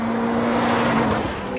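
A racing car accelerates on a track, its engine holding a steady loud drone that builds slightly before fading, heard close without talk.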